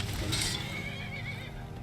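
A horse neighs in the video game Skyrim, a drawn-out whinny heard clearly over a steady dense game background during a zombie attack.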